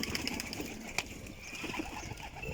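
Several pigeons coo and rustle close by while being fed by hand, a steady low murmur of calls with a sharp flap or knock near the start and little talk.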